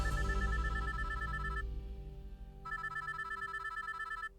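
Old payphone ringing inside a phone booth in a visual novel game: two bursts of rapid electronic trilling separated by a pause, moderately loud against a soft background hum, no talk.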